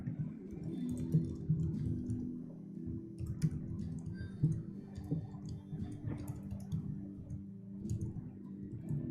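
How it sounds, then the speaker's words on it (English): Computer keyboard typing during an online poker session, a steady patter of light clicks and taps set close against a soft low background hum and heard without talk. "Sorry, I'm typing to the chat."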